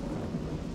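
A thunderstorm with heavy rain plays as a story sound effect, a brief low continuous rumble of thunder mixed with the dense wash of falling rain.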